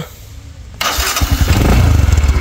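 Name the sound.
motorcycle engine starting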